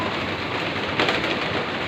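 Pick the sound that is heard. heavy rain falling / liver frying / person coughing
heavy rain falling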